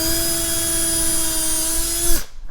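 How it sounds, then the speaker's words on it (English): A power drill bores a pilot hole into wooden dowels during a loose door hinge repair, giving a steady, close, high-pitched whine for about two seconds before cutting off abruptly. "So we just need to pop a pilot hole in."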